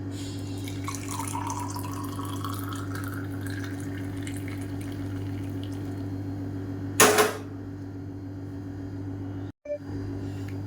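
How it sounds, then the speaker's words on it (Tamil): Boiled manathakkali (black nightshade) water is strained in a kitchen. A faint trickle and pour sounds against a steady background hum, with a brief sharp clatter near the middle. "இப்போ இதை வடிகட்டிக்கலாம்"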